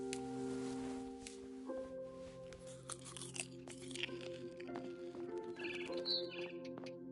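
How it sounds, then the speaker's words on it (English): Barn swallow chirps outside a window in the game What Remains of Edith Finch, short high twittering calls scattered over steady sustained tones and crinkly rustling, moderately faint throughout. "Then I heard chirping outside my window. It was a barn swallow going back to her nest."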